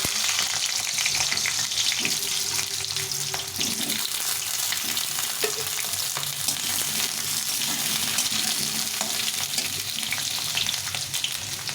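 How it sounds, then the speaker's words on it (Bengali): Potatoes cut into long strips fry in a hot kadai with a dense, steady sizzle and crackle that runs loud and unbroken. Occasional faint stirring scrapes sit close underneath. "কড়াটা গরম হয়ে গেছে প্রথমে আলুটাকে একটু ভেজে নেব"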